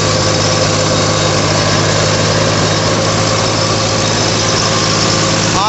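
A Mahindra B275 tractor engine, held at a fixed throttle at roughly 1800 RPM, drives a Sonalika thresher with a loud, steady mechanical drone that stays unchanged throughout, heard close with no talking.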